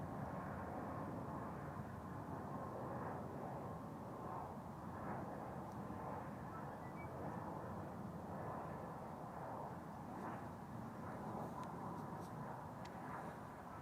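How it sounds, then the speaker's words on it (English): KLM Embraer E190 airliner arriving at Amsterdam Schiphol Airport, a faint distant steady jet engine roar rumbling continuously throughout without a clear peak. "this is KLM flight 1424, an M190 arriving from Nantes"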